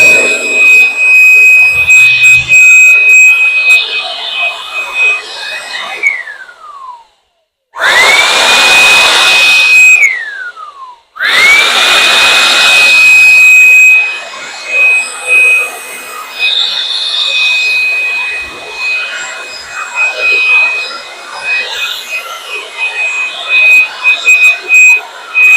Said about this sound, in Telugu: ఇప్పుడు దీంట్లో ఎయిర్ ఫ్లో ఎంత ఫోర్స్ గా వెళ్తుందో చూద్దాం. ఆన్ చేస్తాను చూడండి.